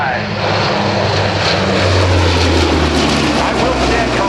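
An Ohio Air National Guard Lockheed C-130H Hercules propeller transport makes a low flyby at the Cleveland National Airshow, a loud, sustained roaring drone of turboprop engines that swells and fills the air, with a voice talking underneath.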